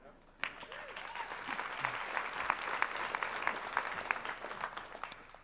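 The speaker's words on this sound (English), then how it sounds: "Just don't give them that golf clap you just gave me on that remark" A convention audience gives a light, scattered round of polite golf-clap applause, steady and fairly soft for about five seconds after a sharp start, with no talking.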